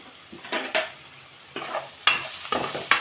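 Onion, green chilli, coriander, curry leaves, turmeric and salt tempering for a bottle gourd curry sizzle in a pan, a steady close hiss broken by several bursts of stirring and spoon scrapes.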